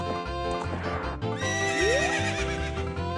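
A horse neighs in The Legend of Zelda: Ocarina of Time, a loud whinny with a rising squeal over game music, with hoof clip-clops in the background.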